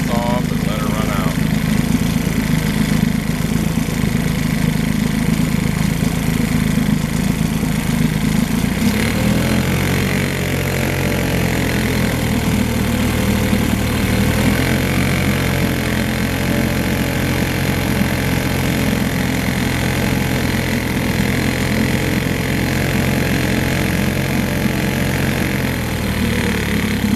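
A small Evinrude Elto Handitwin 3 hp outboard motor idles steadily and loudly with its fuel shut off, its low drone shifting pitch partway through before sputtering on unevenly near the end as it runs out of gas.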